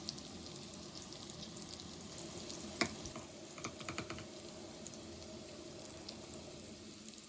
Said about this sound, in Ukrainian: Так, кипить вода.